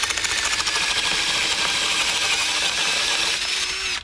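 A power drill bores a small pilot hole for a shed base stake, a steady close whirring drone running the full few seconds without pause.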